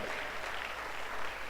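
Audience applause at an entrepreneurship bootcamp session, a steady wash of clapping from a crowd that holds fairly even for a short stretch without speech.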